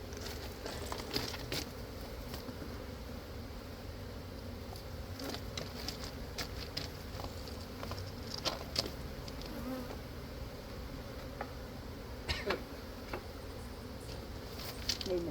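Honey bees at a hive hum in a steady, soft buzzing drone, with occasional faint crackles and rustling close by and no talking.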